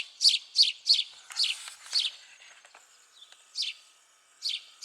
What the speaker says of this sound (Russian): Воробьи вот только мешали работать.